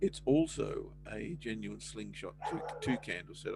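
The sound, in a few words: dog barking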